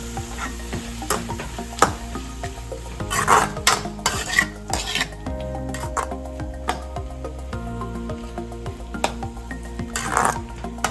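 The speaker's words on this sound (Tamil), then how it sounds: "உப்பு சேர்த்து நல்லா வதக்கிக்கலாம்." Onion and tomato sautéing with salt for a spicy chutney, with a steady sizzle under repeated stirring, a metal spoon clinking and scraping against the pan in an uneven rhythm, close by and with no talk.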